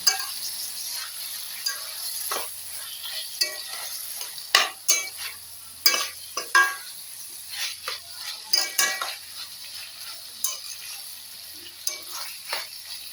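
Sesame paste being stirred and fried with ivy gourd and potato curry in a pan, with intermittent scraping clinks of a utensil against the pan over a steady soft sizzle.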